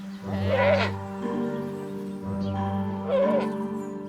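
A newborn goat bleats twice, a pair of wavering, nasal cries separated by a pause, close and fairly loud against a low steady background hum.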